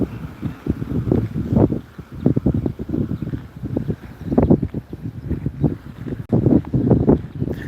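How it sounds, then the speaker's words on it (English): Gusty outdoor wind on a windy day, buffeting a handheld microphone in steady low rumbling bursts that rise and fall throughout, loud and close, with no talk. "Yes, it's a windy day."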